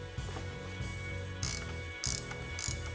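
A ratchet wrench tightens a bolt on a Mazda Miata shock during a lowering-spring install, giving quick metallic clicking runs broken by a few short, louder bursts of rapid ratcheting, close up and with no talk.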